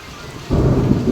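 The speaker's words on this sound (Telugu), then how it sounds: "చూసారా సౌండ్స్ ఎట్లా వస్తున్నాయి, ఉరుములు మెరుపులు" After a quiet moment, a sudden roll of thunder breaks in along with steady rain hitting surfaces, loud and close.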